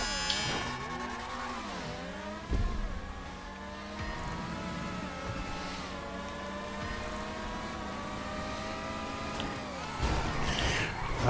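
An open-wheel race car in GTA V Online screams through its gears, engine pitch rising and falling with each shift, loud and close, with brief bumps and skids along the way.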